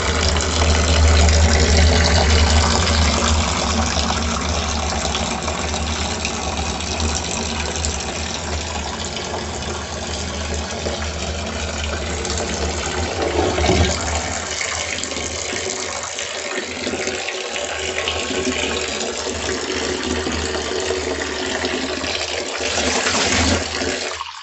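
Water gushes hard and continuously from a tap fed through a sediment filter, a loud, steady rushing that barely changes for the whole stretch.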